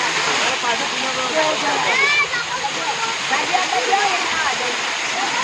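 Sunsar waterfall at Bhiloda sends up a steady, loud rushing roar of falling water that fills the whole clip, with people's voices mixed in above it.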